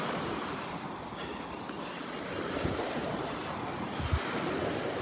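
Waves rolling onto the beach at Delnor-Wiggins Pass on a calm morning, a steady wash of surf with wind buffeting the microphone and a couple of soft thumps near the end.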